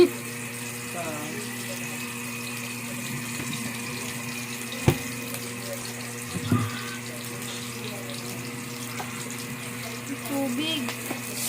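Tap water runs steadily while chicken ginataang with malunggay and sayote is being cooked, a constant hiss under faint kitchen clatter and a couple of brief knocks.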